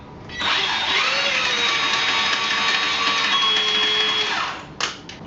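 A Popoman 20v drain cleaner auger runs in a clogged toilet, a steady battery-powered motor whine held for about four seconds before cutting off, followed by a couple of faint clicks.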